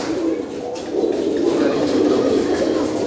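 Pigeons kept for competition coo in a loft, a steady, close, throaty murmur that grows fuller midway and runs continuously, with possible human voice mixed in.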